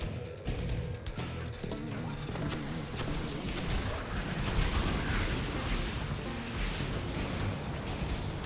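StarCraft II battle with units firing: a dense, continuous wash of blasts, booms and rapid shots layered over each other, loud and sustained for the whole stretch with no clear pauses.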